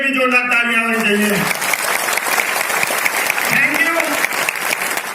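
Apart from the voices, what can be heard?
applause from an audience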